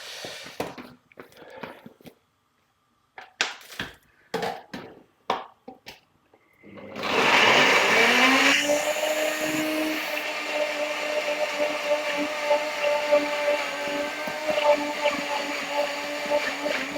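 A NutriBullet blender whirs loudly as it purées spinach sauce with water, its motor pitch rising and then holding steady. A few clunks and knocks of loading and setting up the cup come first.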